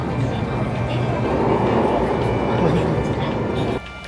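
A metro train rumbles steadily on the ride, a loud continuous low roar of wheels and carriage noise that drops slightly near the end, with voices faintly mixed in.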